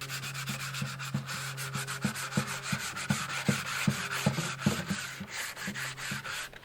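Close, steady hand sanding of wood: repeated rasping back-and-forth strokes in a quick, even rhythm, with no voices.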